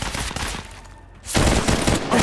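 Bursts of gunfire from the Apex Legends Mobile battle royale, a loud rapid volley cutting off, a brief lull, then heavy shooting resuming close by.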